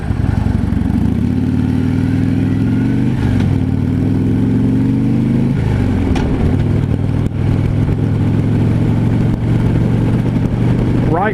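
A 2015 Harley-Davidson FLHTP motorcycle engine rumbles steadily and loudly on a test ride, its pitch rising and falling with throttle changes and engine braking, with wind noise throughout.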